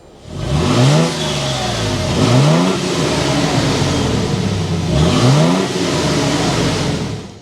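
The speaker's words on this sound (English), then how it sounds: "Let's go inside and start it up so you can hear that exhaust note." A 2024 Toyota Tundra SR5 pickup's V6 engine starts up and revs in rising sweeps, settling between bursts into a throaty idle, then revs twice more, loud and close.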